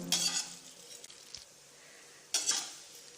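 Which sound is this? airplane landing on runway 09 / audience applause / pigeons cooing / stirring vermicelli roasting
stirring vermicelli roasting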